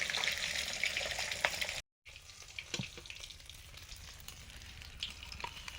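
Mixed vegetables (radish, kohlrabi, beans and taro stolon) fry in hot oil, giving a steady close sizzling hiss that cuts off for a moment and then returns with a few stirring knocks.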